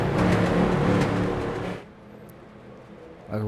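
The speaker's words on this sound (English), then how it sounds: "Pace car ready to take a left" Stock car engine roaring loudly at a dirt oval during a Gateway street stock race, a dense sustained drone that drops sharply partway through to a low rumble before rising again.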